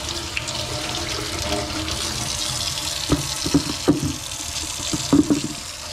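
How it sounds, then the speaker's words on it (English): Grapes being rinsed under running water and dropped into a bucket, with a steady tap splash and several nearby plops and knocks as handfuls land. "first I rinse the grapes in water and put them in the bucket"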